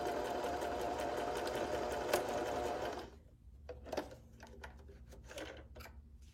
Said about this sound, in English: So I have my needle inserted into my fabric, sew a couple stitches,